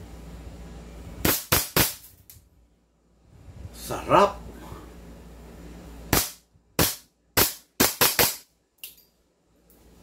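A JWC PitViper 2011 airsoft pistol fires a series of sharp, loud close-range cracks, first three quick shots, then several more in an uneven string, with someone speaking briefly between bursts.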